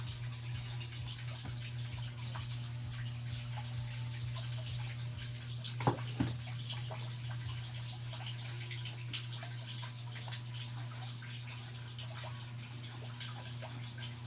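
Dishes washed in a sink under running water, a quiet steady trickle and splash with a low mechanical hum beneath and a couple of soft clinks near the middle, no talking.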